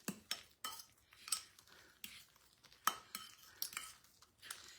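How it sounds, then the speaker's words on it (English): Utensils stir and scrape through a hot power bowl of lunch ingredients, giving a run of close, irregular clinks and scrapes against the bowl with no talking. "Give it a good mix."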